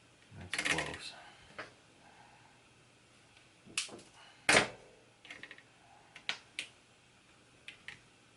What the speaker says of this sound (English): So I'm just going to trim this a little bit to length